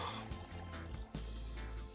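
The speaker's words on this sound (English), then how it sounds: "I'll be putting some water up to the mark" Water poured into a jug of squeezed lemon, mint and ginger for a summer drink gives a close, soft liquid trickle and gurgle that fills steadily over two seconds, no voices.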